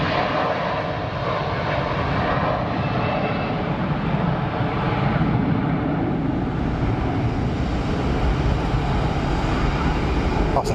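An Air China A330 airliner rolls for takeoff at Geneva Airport, a steady, loud jet engine roar with broadband rumble that holds continuously, heard from the airport surroundings without talk.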